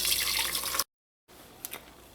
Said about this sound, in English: once you've done that, you pour everything back into your saucepan.